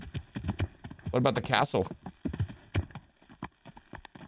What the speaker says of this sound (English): Horse does not like going up the mountain. Yep, the horse even thinks you're lost. Come on, clip clop.